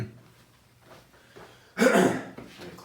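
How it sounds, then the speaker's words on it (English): A man clears his throat once with a loud, harsh, rasping burst, close to the microphone after a stretch of quiet room noise and faint breathing. "Let me clear my throat."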